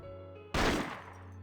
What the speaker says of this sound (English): accompanied by the ear-splitting sound of gunfire